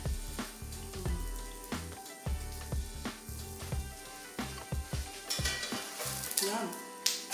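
Savoury cheese-filled flatbread cooks in a hot pan with a steady sizzle, broken by repeated stirring, scraping and light metallic clinks of a utensil against the pan.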